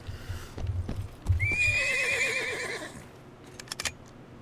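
A horse in the Warband 1860 mod video game gives a loud, close, wavering whinny, with clip-clopping hooves before it and a few sharp clicks and bangs near the end.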